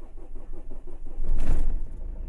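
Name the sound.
Renault Scenic 3 engine idling after injector seal change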